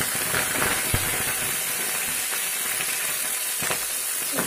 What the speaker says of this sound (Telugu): గ్రీన్ చిల్లీస్ కొంచెం ఫ్రై చేసుకోవాలి.